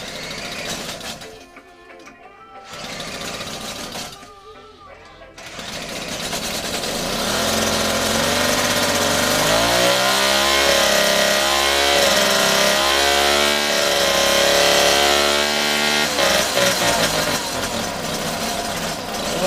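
A restored 1974-75 engine cranks twice in short bursts, then catches and runs steadily, close and loud, with a rough, pulsing idle that rises and settles over the remaining seconds.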